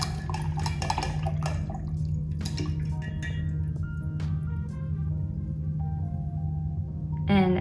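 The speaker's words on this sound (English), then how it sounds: "now I'm gonna go ahead and wash my brush off." A paintbrush being washed off in a water container, with close clinks and watery swishes that cluster at the start and recur sparsely over a low steady hum, ending in a louder clatter.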